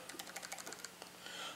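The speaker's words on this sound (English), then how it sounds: "Just typing some things on here. It's a pretty neat keyboard." Quick, light clicking taps on the keyboard of an RCA Atlas 10-inch tablet, a brief burst of close, faint keystrokes with no talking.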